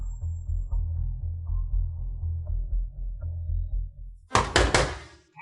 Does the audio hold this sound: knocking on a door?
yes